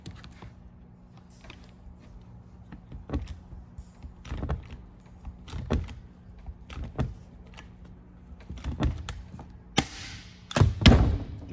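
Work on a small turkey box rivets it together over a 3/16 backing plate, producing a series of irregular sharp thumps and clicks from a rivet tool, each close and distinct, with faint mechanical rustling between them.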